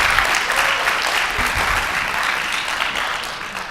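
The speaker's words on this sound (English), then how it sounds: "Round of applause." Audience applause welcoming a presenter to the stage at a conference talk, a loud, full burst of clapping that holds steady and then tapers slightly near the end.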